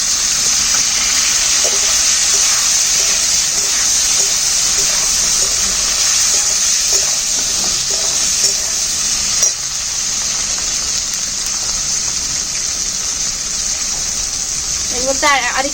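Potatoes and tomatoes frying in a pan, with a steady loud sizzle and scattered stirring scrapes running throughout.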